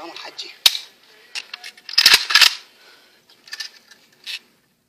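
Gunshots from a handgun crack out as several sharp, brief bangs at irregular intervals, some close and loud, with faint talk and noise between them.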